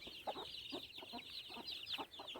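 A mother hen with her newly hatched chicks makes soft, repeated clucks in a rhythmic run, while high chick peeps carry on steadily over them, close by with no talk.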